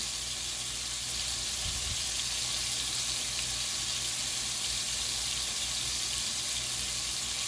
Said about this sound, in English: we cook hamburger done